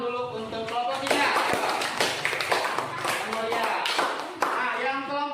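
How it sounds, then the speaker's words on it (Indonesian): Classroom applause for a student group, a steady patter of clapping from many hands lasting several seconds, with voices mixed in underneath. "Tepuk tangan dulu untuk kelompok 3."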